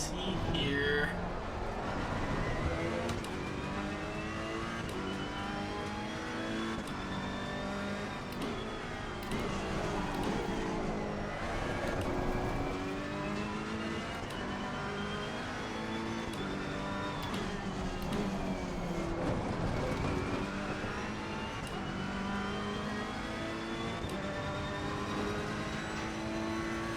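A race car engine in a racing video game drones and revs continuously, with a gliding, rising-and-falling tone through repeated gear shifts under light background talk.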